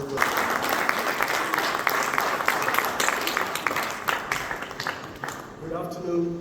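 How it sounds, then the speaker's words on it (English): A crowd at a healthcare and medical expo in Abuja breaks into sustained applause, thick overlapping claps with a few louder individual hits. It thins toward the end as a voice begins speaking. "with a resounding ovation and clap"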